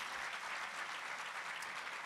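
Steady applause from an audience, a dense wash of clapping that holds evenly throughout with no voices on top.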